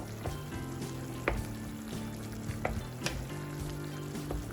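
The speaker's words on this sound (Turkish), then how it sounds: "Baharatlarla beraber de kıymamızı kavurmaya devam ediyoruz" Ground beef mince browning with spices in a hot pan for homemade lasagna, a steady soft sizzle and crackle with a few sharp spoon scrapes and taps against the pan, close and continuous.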